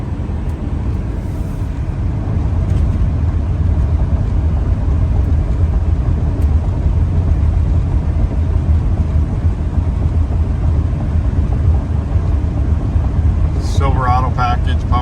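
Continuous cabin drone and road roar from a 1993 Chevrolet K1500 Z71 pickup on the highway in South Dakota, steady throughout, with a brief voice near the end.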